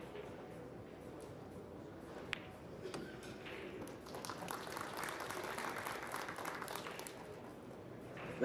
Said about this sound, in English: getting some noise and appreciation from the crowd